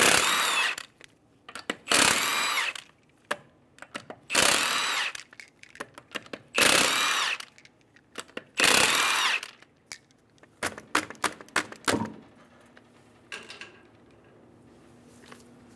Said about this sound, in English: Using a 21 millimeter socket, remove the 5 lug nuts.